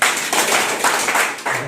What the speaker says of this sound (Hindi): ताली बजाना,